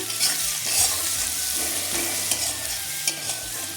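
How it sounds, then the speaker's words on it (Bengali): Chopped onion fries in hot oil with salt and turmeric, sizzling steadily close up while a spoon stirs and scrapes through it in short strokes. "এই তেলের মধ্যে আমি দিয়ে দিচ্ছি পেঁয়াজ কুচি এর মধ্যে দিচ্ছি লবণ আর দিলাম হলুদ গুঁড়ো"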